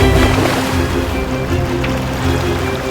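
Water waves crash and churn over a LEGO set in a simulated natural disaster, a loud continuous rushing wash with a low steady hum underneath and no talking.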